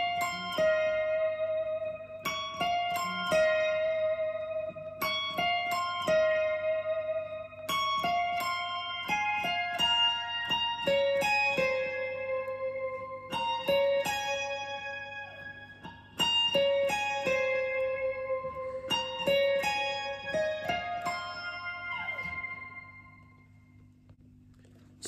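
An electric guitar picks out the high, repeating lead hook of a song in clean, bright plucked notes, phrased in short looping figures over a quiet low drone, heard alone with no talking.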